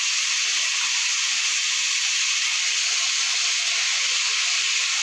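Shredded cabbage hits hot oil already holding cumin, bay leaf, green chilli and potato, setting off a loud, steady, close sizzle that hisses without a break.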